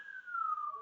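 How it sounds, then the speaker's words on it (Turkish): Ambulance siren passing, a single steady wail that slowly drops in pitch as it goes by, fairly faint and alone. "Ay ambulans geçiyor."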